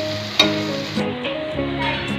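Onions and tomatoes sizzle steadily in a pan while cooking down for poha, a close, continuous frying hiss with a few soft stirring clicks and no talking.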